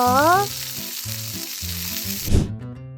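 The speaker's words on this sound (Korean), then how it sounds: "패티를 굽고" A hamburger patty sizzles in a frying pan, a bright continuous hiss under a simple looping background tune, cutting off abruptly near the end.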